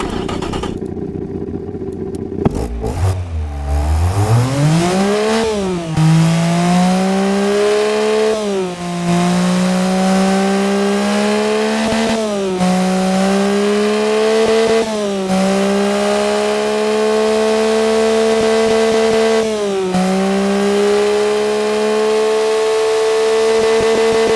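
A Honda E07A car engine, modified, in the Automation game idles with a rough, throaty exhaust, then revs up several times in repeated surges before settling back, loud and close throughout.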